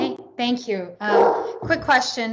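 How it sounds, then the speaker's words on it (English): Pet dogs bark and yip in the background during an online video call, their sharp calls mixed in with a person talking over them. "I'm sorry about my dogs."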